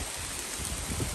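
Pouring rain during Hurricane Ian on a coast lined with palm trees, a dense, continuous roar of falling water, close and steady, with no talk.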